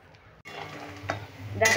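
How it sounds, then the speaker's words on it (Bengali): Chana dal fritters fry in oil in a wok, a soft bubbling hiss under faint stirring, with a sharper scrape and clink near the end. "বাকিগুলো একইভাবে ভেজে নেব।"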